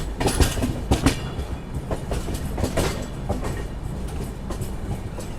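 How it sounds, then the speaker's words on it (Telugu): Visakha Express running on from Visakhapatnam Junction, wheels clattering in uneven rhythmic bursts over the rails with a steady rumble beneath, heard close and fairly loud with no voices. "ట్రైన్ వచ్చేసి విశాఖపట్నం జంక్షన్ నుంచి బయలుదేరిన తర్వాత నెక్స్ట్ స్టాప్ వచ్చి మనకు సింహాచలం"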